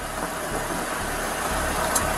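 A car engine idles at a steady, even rumble through the whole stretch, with no talking over it.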